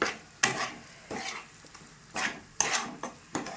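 Spoon scrapes and stirs through thick poppy seed paste mixed into a rohu fish curry in a pan, with several distinct scraping strokes at an uneven rhythm, close and fairly clear with no talking.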